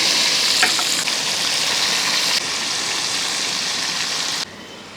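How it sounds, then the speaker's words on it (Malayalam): Chicken pieces for biryani fry in hot oil with a dense, steady sizzling hiss, close and fairly loud, with a couple of brief clicks early on and the level dropping in steps toward the end. "അപ്പോൾ ഈ ഒരു രീതി വേണം നമുക്ക് ആ ചിക്കൻ വറുത്തെടുക്കാനായിട്ട്"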